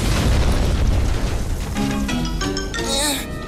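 A cartoon explosion goes off as a computer game blows up in the animated series Yin Yang Yo. A loud, close boom rolls into a sustained rumble, and ringing tones and a voice come in near the end.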